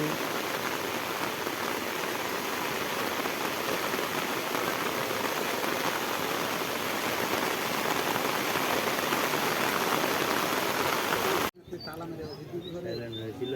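Steady light rain patters continuously, a dense even hiss of drops that cuts off abruptly near the end, leaving quieter outdoor ambience with faint chirps.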